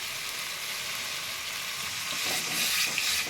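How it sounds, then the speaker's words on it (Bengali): A masala gravy sizzles steadily in a pan, then splutters and hisses louder as warm water is added, the broadband sizzle swelling near the end with no voices. "এবার একটু আমি উষ্ণ গরম জল দিয়ে দেব গ্রেভিটায়"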